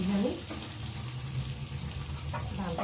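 Food sizzles steadily in a frying pan in a home kitchen, a few pieces at a time, with a constant close hiss throughout and a brief clatter near the start.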